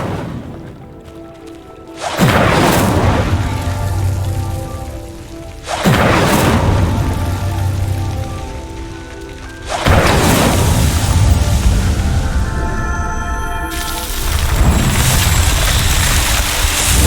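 A fire spell in a Harry Potter video game erupts as four loud, roaring, whooshing blasts a few seconds apart, each flaring suddenly and then rumbling as it fades.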